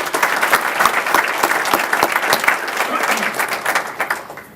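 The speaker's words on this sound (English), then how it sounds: "So another round of applause for Doc." An audience at a morning community gathering gives Doc a round of applause, dense and steady clapping at close range that tapers off near the end.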